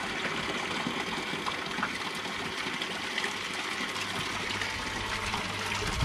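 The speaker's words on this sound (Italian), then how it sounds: "Ecco lì, questo sta pompando" A pump draws water from a tank in the countryside, giving a continuous rushing, gushing flow with a steady low hum underneath, close and constant throughout.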